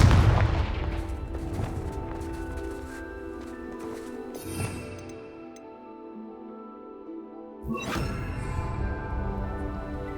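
Confringo blasting spell explosions in Hogwarts Legacy, a heavy boom at the start ringing out into a long rumbling tail, with a smaller burst midway and a second loud blast near the end.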